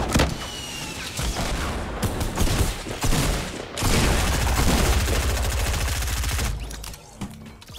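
Rapid bursts of SMG and assault-rifle fire in a Fortnite Battle Royale match, loud and close, in dense volleys with brief gaps and heavier booms between strings of shots.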